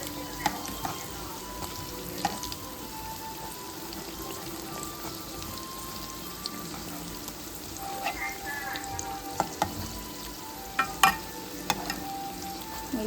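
Thick chillies sizzle steadily in hot oil in a pan, a continuous crackling fry with a few sharper clinks and pops as they are flipped, no talking.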